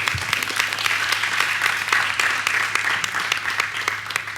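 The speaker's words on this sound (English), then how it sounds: "Can we please give a round of applause for him?" A board of education meeting audience applauds a student, a steady, dense wash of clapping from a sizable crowd in a hall that holds evenly throughout.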